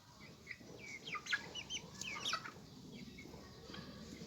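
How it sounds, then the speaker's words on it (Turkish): Hens cluck, a rooster crows and small broiler chicks cheep in scattered high chirps over a steady outdoor background, fairly quiet and close by. "Tavuklardan biri gıdaklıyor. iki civciv bir horoz ciyaklıyor."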